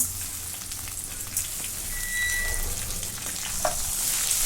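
Washed moong dal fries with garlic in hot oil for a dill leaf bhaji. A steady, fine crackling sizzle runs throughout at a moderate level, with a few small clinks and no speech.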